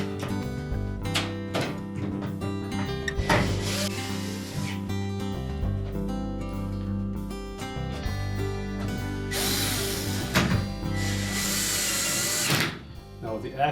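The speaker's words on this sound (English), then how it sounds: "Secure both of them with the screws supplied." A power drill drives the supplied screws into a Whirlpool dishwasher's main access panel in a few short bursts, with steady background music running underneath.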